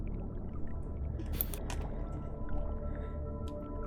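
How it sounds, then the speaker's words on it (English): Underwater ocean aquarium ambience music with a steady low watery rumble and soft bubbling, a few brief brighter splashy bursts near the middle, continuous and fairly quiet. "Underwater ambience music. I don't want to just listen to bubbles. Ocean aquarium. It does sound very underwater."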